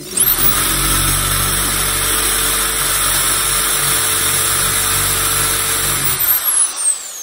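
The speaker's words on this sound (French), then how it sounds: "Et vous commencez à percer." A power drill runs steadily for about six seconds, boring a hole in a beginner's drilling exercise, then winds down as the motor stops near the end.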